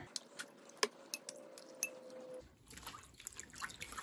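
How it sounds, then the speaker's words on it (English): Quiet splashing and dripping as mohair fur fabric pieces are swished in a dish pan of warm water, with light clinks and trickles, no voices. "into the dish pan full of warm water to rinse them out."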